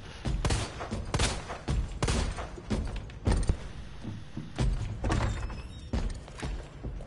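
Several heavy, booming shotgun blasts in a Resident Evil game, fired in quick irregular succession with thuds and clatter between them, loud and close, no talking.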